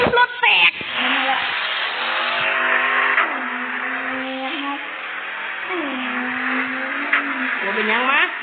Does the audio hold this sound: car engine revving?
yes